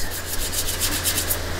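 Sandblasting the cab of a Willys vehicle being restored in a custom shop: a steady, loud abrasive hiss and rush with a low constant hum beneath, continuous with no pauses.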